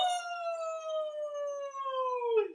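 A voice imitates a wolf howl during a children's storytime, one long sustained tone sliding slowly downward and breaking off at the end, clear and alone.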